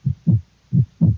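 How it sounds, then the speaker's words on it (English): Heartbeat sound effect from the fright break of the film Homicidal: two deep, muffled lub-dub thumps in steady rhythm, loud and alone. "It's the sound of a heartbeat."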